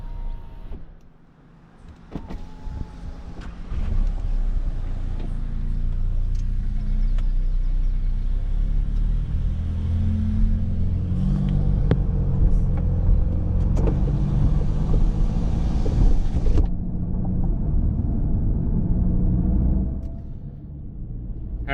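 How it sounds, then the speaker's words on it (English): Cars pass steadily along River Road near New Braunfels, Texas, a continuous engine and tire rumble heard from inside a moving vehicle, swelling and fading as traffic goes by, with no talk. "Actually, quite a lot of traffic out here."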